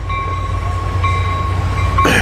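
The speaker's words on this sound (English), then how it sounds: "I hear a train." A train rumbles steadily past in Niles Canyon, a loud low drone with sustained tonal whine, rising into a brighter burst of wheel and rail noise near the end, with no talking.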